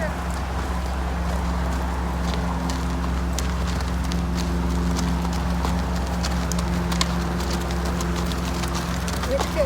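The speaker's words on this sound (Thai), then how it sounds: "ก็จะมาออกกำลังกายกันขี่ม้า" Horses being ridden for exercise in the rural countryside outside town, hooves clip-clopping steadily under a continuous low engine-like drone and distant voices.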